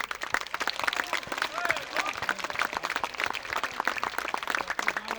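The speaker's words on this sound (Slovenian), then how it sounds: "vi se jim lahko zahvalite z močnim aplavzom" An audience at a children's folk dance festival gives the folk dance groups dense, loud applause, with overlapping claps and scattered cheers and whistles sustained evenly throughout.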